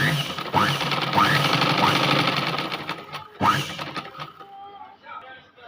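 A sewing machine runs steadily, stitching blouse fabric and its lining together with long stitches as a princess cut blouse is assembled. The whirring is close and continuous, with a voice heard briefly over it.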